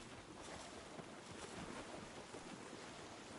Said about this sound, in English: The waterfall's making waterfall noises.